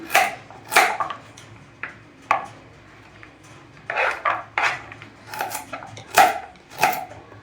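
A knife chops carrot on a cutting board in a home kitchen while making carrot holige, giving a run of irregular, crisp taps and knocks, some sharper than others, close by with no voices.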